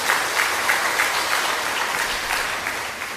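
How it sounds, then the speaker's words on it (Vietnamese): A church congregation applauds during a Sunday Mass in a Vietnamese parish, with loud, continuous, dense clapping that fills the clip and eases slightly toward the end. "chúng ta vỗ một tràng pháo tay thật lớn chúc mừng"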